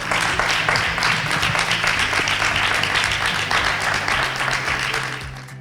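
Loud, sustained applause from a crowd at a Valencian Falles ceremony honouring the children's fallera major, dense clapping continuing steadily before easing slightly at the end.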